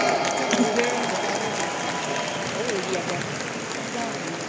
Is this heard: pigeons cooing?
no